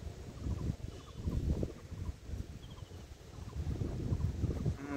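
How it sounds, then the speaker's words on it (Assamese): Strong outdoor wind buffets the microphone in a continuous low, gusty rumble that swells and eases over a few seconds, with no voices. "চাওক গাইছ কিমান বতাহ আহি আছে"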